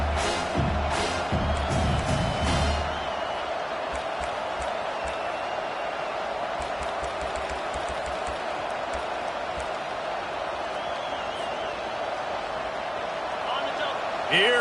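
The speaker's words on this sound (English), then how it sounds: "Here comes this home crowd as the defense tries to get off the field on 3rd down." The home crowd in the NCAA 25 college football video game keeps up a loud, continuous roar during a third-down defensive stand, with a commentator talking over it.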